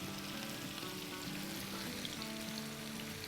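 Fried onions land in a pan of cooking chicken, giving a soft, steady sizzle with a faint tonal hum beneath it and no voices.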